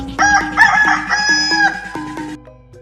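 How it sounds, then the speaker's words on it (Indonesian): A rooster crows at dawn, one long, loud, close cock-a-doodle-doo with a wavering drawn-out call that fades at the end, heard alone without voices. "mengetuk-ngetuk pohon agar ayam cepat untuk berkokok"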